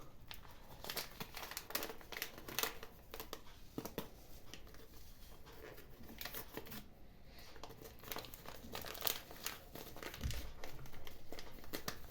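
Continuous crinkling of a small vanilla sugar packet, rustling in quick irregular bursts close up.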